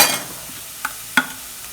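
Garlic, curry leaves and chillies sautéing in hot oil for banana fry, with a soft steady sizzle and two sharp spoon scrapes against the pan, close and unaccompanied by talk.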